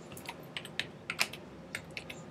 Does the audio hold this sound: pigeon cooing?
no